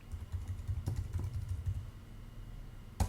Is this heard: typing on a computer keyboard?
yes